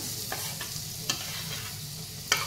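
Small mushrooms are stir-fried with fried onion and garlic in a pan, a steady close sizzle broken by a few crisp spatula scrapes and taps.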